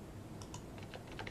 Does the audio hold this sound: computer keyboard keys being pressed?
yes